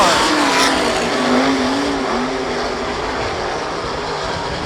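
Sprint race cars roar down the backstretch of a dirt track, loud and continuous, with a rising and falling engine whine as the field passes close by, a commentator's voice partly under the noise.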